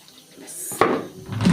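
Water is poured onto a chicken marinade in a home kitchen: a short splashing pour with light clatter of dishes, close and moderately loud.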